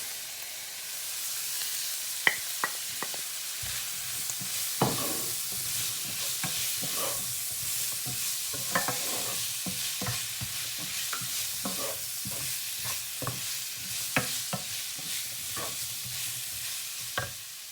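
Vegetables for vegetable rice frying in a pan as spices go in, a continuous close sizzle broken by frequent sharp clicks and scrapes of a stirring spoon against the pan.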